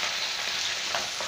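Rohu fish curry sizzles and bubbles in a pan, a steady close frying hiss with no one talking.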